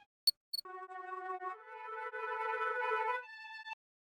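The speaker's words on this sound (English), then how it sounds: "I made these sounds by running some flute samples through Fruity Granulizer and Portal." Flute samples run through Fruity Granulizer's Weird Language preset, giving a short, clean passage of warbling, voice-like tonal glides preceded by a few quick clicks, then stopping into silence.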